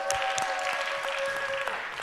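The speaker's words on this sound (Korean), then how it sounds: "네 모두 환영의 박수 한 번만 쳐주세요." A church youth congregation claps steadily to welcome new members into their small groups, a dense, even round of applause from a modest crowd that carries on for the whole stretch at moderate volume.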